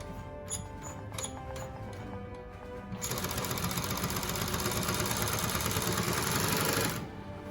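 A Fusion high post sewing machine with a wig attachment, first a few short clicking stitches, then a fast steady whirring run of about four seconds before it stops, close and clear with no talk.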